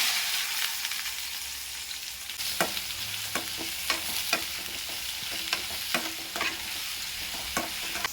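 Onions sizzle and crackle in hot oil, with sharp intermittent scraping clicks from a spoon stirring the pan.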